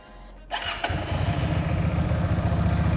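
A Keeway 250 cc V-twin motorcycle engine cranks and catches, then settles into a steady, loping low idle, close and prominent.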